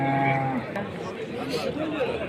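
A cow at the Bekobod livestock bazaar in Namangan's Yangiqo'rg'on district gives a short low moo at the start, then the market continues with a steady hum of crowd chatter around it.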